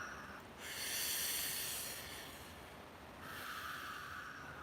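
A slow, close breath draws in through the mouth and flows back out in a long airy hiss, followed by a second inhale, calm and even during a meditation exercise.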